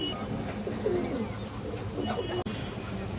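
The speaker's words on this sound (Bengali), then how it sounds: "এই যে দেখেন একজোড়া দেখেন সবজি কবুতর আছে" A pair of Sobji pigeons coo softly in low repeated phrases under steady background noise, with one brief sharp click near the end.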